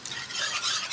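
A flour and heavy cream mixture is stirred in a large pan, giving a brief soft scraping and hissing sound heard alone.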